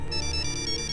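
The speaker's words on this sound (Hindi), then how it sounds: "किसका फोन है? पापा का फोन है।" A mobile phone ringtone plays continuously, a repeating electronic pulsing melody at moderate level with no voices over it.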